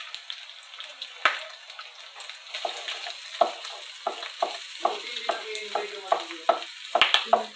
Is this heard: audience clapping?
no